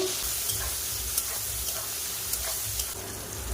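Masala of oil, tomato and onion frying in a pan, with a steady, dense sizzle and occasional soft stirring ticks, close and moderately loud, with no voices.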